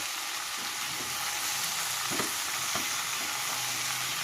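Food frying in sunflower oil until brown gives a steady, dense sizzle throughout, with a few soft knocks and scrapes of stirring in the pan.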